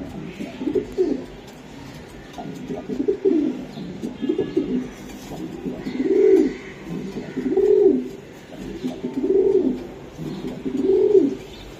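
Racing pigeons coo steadily, about six or seven throaty rolling calls in an even rhythm, close and clear over a faint background murmur, with nobody talking.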